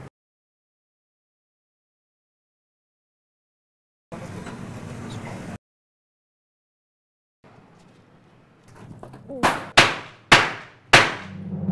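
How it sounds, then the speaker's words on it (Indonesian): Several sharp gunshots crack out near the end, coming in quick succession and growing louder, each followed by a short decay, after a brief burst of noise and a quiet stretch. "Ada suara tembakan, Pak."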